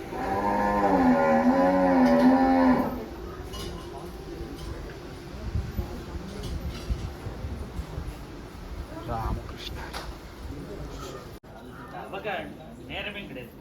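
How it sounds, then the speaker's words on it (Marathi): Cattle and young calves at a temple cowshed give a loud, drawn-out moo up close for the first few seconds, followed by quieter shuffling and farm noise, with a person speaking at times. "ह्या सर्व गाई आहेत ही छोटी वासरं ही छोटी छोटी वासरं आहेत"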